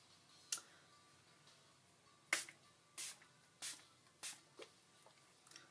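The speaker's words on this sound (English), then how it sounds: "And then you'll just set with the spray." Several short, soft hissing spritzes of a makeup setting spray misting onto a face, spaced about a second apart in a quiet room.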